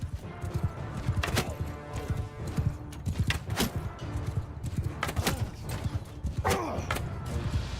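Horses gallop in a dense, continuous clatter of hoofbeats as mounted archers charge in the Mount and Blade Bannerlord battle game, with thuds and scattered impacts mixed into the busy rumble.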